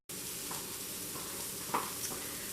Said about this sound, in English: the last of my patties is browning